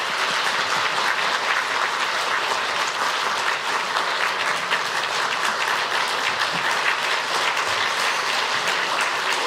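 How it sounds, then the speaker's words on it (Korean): A church congregation at a Sunday service applauds to welcome a missionary, dense sustained clapping from many hands that fills the room at a steady loud level throughout. "우리 선교사님 나오실 때 우리 큰 박수로 환영해 주시기 바랍니다."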